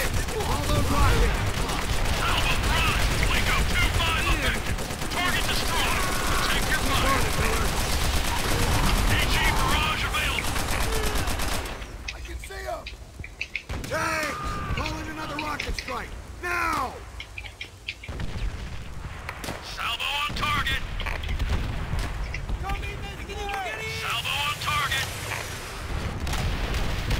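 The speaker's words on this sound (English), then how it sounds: "Get on those MGs and tear them off!" Machine gun fire in the World War II shooter Call of Duty: World at War, continuous rattling bursts amid battlefield explosions, heavy and dense at first, then thinner with distinct bursts, under shouted voices.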